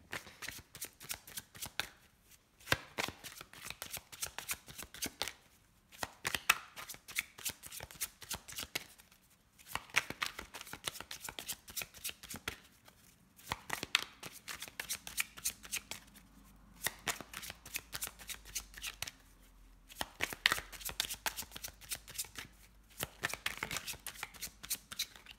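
An oracle card deck being shuffled and cut by hand, repeated riffling bursts of cards separated by short pauses, close and crisp throughout with no talk.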